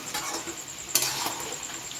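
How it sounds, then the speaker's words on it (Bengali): Chicken fries in a pan, a close, steady sizzle broken by light clinks and scrapes of a spoon stirring against the metal, with no voices. "হ্যাঁ, একটু ভাজা ভাজা হোক, একটু লাল হোক"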